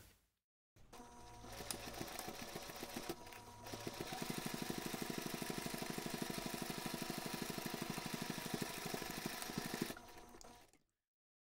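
A sewing machine stitches a backpack seam in a long, steady, close-up run of rapid mechanical needle strokes, starting and stopping cleanly with near silence at both ends and no talking.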